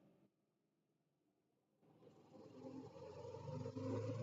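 A Subaru STi with a knocking fault runs on a dyno at 25% load; after a near-silent pause its engine surges in and builds to a loud, steady, rising roar.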